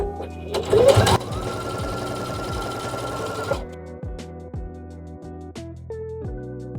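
A Bernina sewing machine stitches a cushion cover, its rapid needle chatter running loud and steady for a few seconds, then dropping to slower, spaced clicks and thumps as the stitching eases off.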